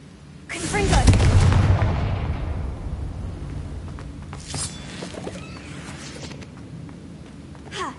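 A Confringo fire spell from Hogwarts Legacy erupts as one heavy explosion, a booming blast that swells quickly and then rumbles down over several seconds, followed by faint scattered crackles, with no talk during it.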